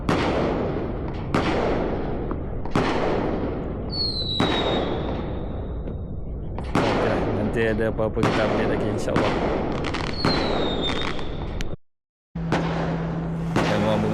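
Festive Hari Raya fireworks bursting near a houseboat on a river, with repeated sharp bangs and crackling at an irregular rhythm, loud and close, a few whistling rockets rising between them, while people talk over the blasts.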